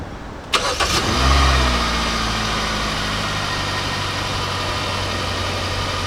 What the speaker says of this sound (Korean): 그러면 시동 걸겠습니다